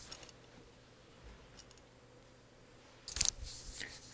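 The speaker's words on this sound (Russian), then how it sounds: "наделся одним щелчком. Мгновенно." An amber bracelet's clasp snaps shut with one sharp, close click, preceded by faint handling rustles in a quiet room.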